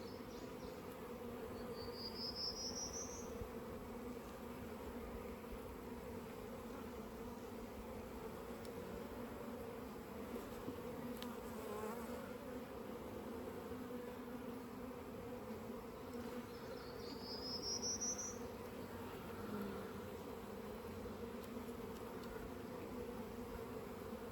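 Honeybees drone steadily around an open beehive during a spring hive inspection, a continuous low buzzing hum with no talk over it.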